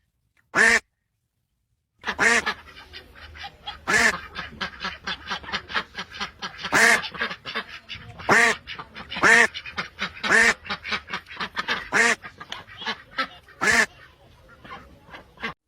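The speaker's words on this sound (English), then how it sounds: "Duck." A duck quacks repeatedly in loud, nasal calls, a single quack followed by a rapid run of quacks close by with no other sounds.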